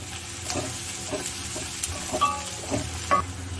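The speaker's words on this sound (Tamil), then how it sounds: "வெங்காயம் பூண்டெல்லாம் நல்லா இப்போ நம்மளுக்கு ரோஸ்ட் ஆகிடுச்சு" Onions and garlic roasting in a pan for a brinjal or okra kuzhambu gravy, a steady close sizzle broken by several soft scraping stirs of the spoon at a loose, uneven rhythm, with no talking.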